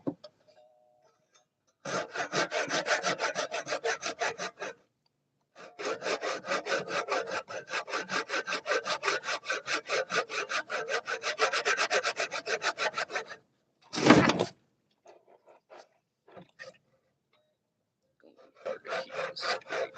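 Hand saw cutting through wood in long bursts of rapid rasping strokes, close and loud, separated by short pauses and a single thud.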